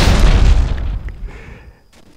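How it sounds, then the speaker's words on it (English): A grenade explosion in Halo: Combat Evolved bursts loud and close at the start as a heavy boom, then rumbles and decays over about two seconds, with a faint crackle trailing at the end. "Wonder if I throw a grenade here,"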